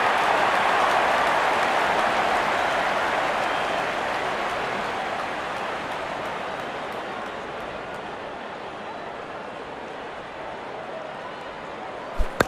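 A video-game crowd cheers and applauds after a six in Real Cricket, a dense, steady roar of cheering that slowly fades over about twelve seconds.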